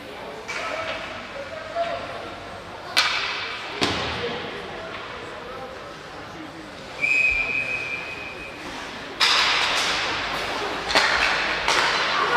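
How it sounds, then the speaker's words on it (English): A referee's whistle blows briefly during a varsity high school hockey game, a short sharp tone amid a loud rink with thuds of pucks and boards and an announcer talking throughout. "Whistle."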